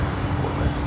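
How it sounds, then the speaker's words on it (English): Singapore Airlines Boeing 777-300ER jet beginning to taxi at Los Angeles International Airport, a steady broadband engine rumble and roar, fairly loud and constant throughout, with some wind buffeting and no voices. "Possibly Singapore Airlines Flight 11, a 777-300ER heading back to Tokyo Narita, starting taxi"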